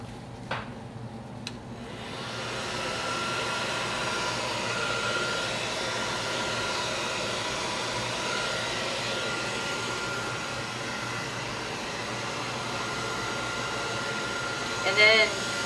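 A blow dryer blows steadily over a Dutch pour of acrylic paint, a continuous rushing airflow running close and fairly loud through most of the stretch, with a faint voice briefly heard near the end.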